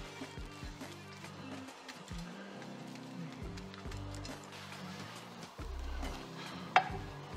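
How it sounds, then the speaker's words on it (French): Almonds dry-roast in an old dedicated frying pan for mole poblano, stirred continuously with soft scraping and rattling, faint and close, with one sharp knock near the end. "Dans une vieille poêle que j'ai dédiée à ça, on va torréfier légèrement les amandes."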